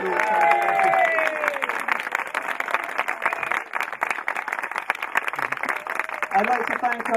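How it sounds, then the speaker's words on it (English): An audience at a community heritage centre launch applauds and cheers for Dave and Ollie, a steady wash of clapping from the crowd that fills the whole stretch, with a voice audible early on. "So you can have a massive cheer for Dave and Ollie"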